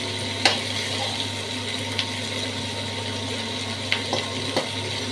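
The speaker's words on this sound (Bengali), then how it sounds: "খুব ভালো করে ভাজবো, সুন্দর করে নরম করে।" Winter vegetables with onion stalks frying in oil, a soft steady sizzle with occasional light stirring taps, fairly quiet and close.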